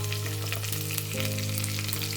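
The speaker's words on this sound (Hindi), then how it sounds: "इन सारी चीज़ों को भून लेंगे।" Dense, loud sizzle of onion and green chili frying in a pot with bay leaf and cumin tempering for veg tahari, continuous and close with a low steady hum beneath.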